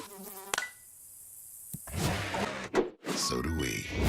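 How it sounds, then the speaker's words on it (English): Mosquitoes buzz in a high, whining drone for a few seconds in a pest control advertisement, loud and close, followed by a few sharp hits and some indistinct voices. "When mosquitoes show up,"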